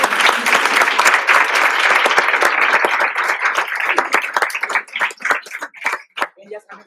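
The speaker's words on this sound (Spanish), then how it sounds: "Un aplauso." Conference audience applauding in a main lecture hall at an education research day, a loud dense burst of clapping that thins out into scattered individual claps before fading.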